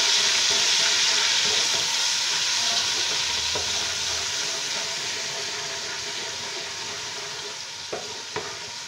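Mutton sizzling and frying in a pot for a white mutton pulao, a steady close hiss with faint stirring scrapes and a few clinks near the end, no voices.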